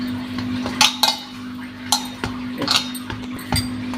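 A utensil mixes cocoa butter-cookie dough in a bowl, giving scattered bright clinks and taps against the rim over a low steady hum.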